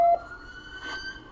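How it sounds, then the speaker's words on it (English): A police car siren wails at a distance during a police shooting incident, a faint high tone rising and falling briefly against background noise, with no talk. "Is that the ambulance? That's the police."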